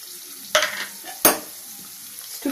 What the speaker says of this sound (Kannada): ಈಗ ಎಣ್ಣೆ ಕಾದಿದೆ, ಸಾಸಿವೆ ಹಾಕ್ಕೊಳ್ಳೋಣ, ಜೀರಿಗೆ, ಕಡಲೆಬೇಳೆ,